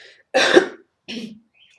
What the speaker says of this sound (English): I have to cough.